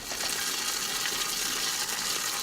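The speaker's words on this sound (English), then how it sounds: "Gonna add a bit of water." Water poured steadily into a container as more is added while preparing homemade oil, a continuous close gushing splash with no talking.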